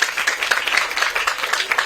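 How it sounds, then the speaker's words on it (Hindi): An audience claps in steady rhythmic applause for a young girl named Khushi at a public address, brisk repeated claps with no voices over them. "खुशी के लिए ताली बजाओ।"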